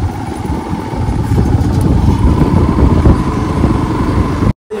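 A motorcycle ridden from the Garo Hills toward the Khasi Hills in Meghalaya, its engine a steady close drone with wind rush throughout, broken by a brief dropout near the end.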